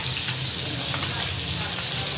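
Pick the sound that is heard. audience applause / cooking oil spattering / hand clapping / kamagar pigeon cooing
cooking oil spattering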